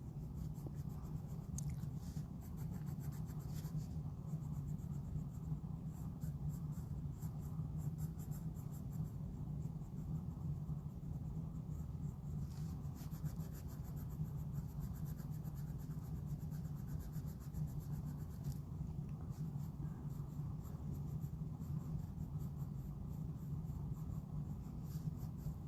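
Steady scratchy scribbling of pencil or crayon on paper while a Baby Yoda drawing is colored in, a close, continuous rubbing texture with no speech.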